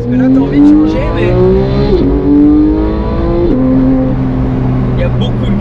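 Porsche GT3 991.2 engine revs hard and climbs through rising pitch sweeps, with quick shifts and repeated accelerations. A person talks over the engine's loud, close sound.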